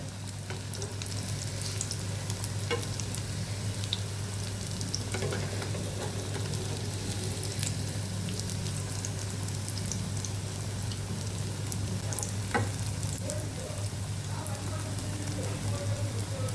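Jalar samosas deep-frying in hot oil give a steady, close, dense sizzle with crackling bubbles throughout, broken by a few sharper pops and scraping stirs, and a constant low hum underneath.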